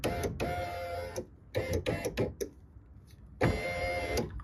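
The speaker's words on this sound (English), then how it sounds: "double check that the motor is running" Rear power window motor in a 2000 Toyota Camry driven by its switch, whirring in several short runs and stops, with a mechanical buzz and clicks between them, close and fairly quiet.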